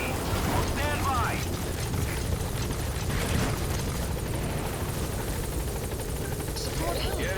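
A support helicopter lands at a landing zone in the Metal Gear Solid V video game, its rotor thudding loud and close under sparse radio voices and game effects.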